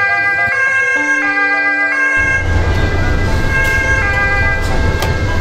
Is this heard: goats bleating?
no